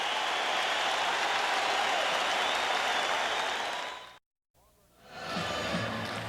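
Basketball arena crowd roaring and applauding at the Palace of Auburn Hills during Game 1 of the 1989 NBA Finals, a broad sustained din that cuts out abruptly, then returns.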